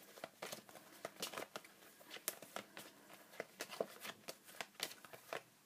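Tarot deck shuffled by hand, a steady run of close, soft papery flicks and riffles in quick irregular rhythm, quiet and alone with no voices.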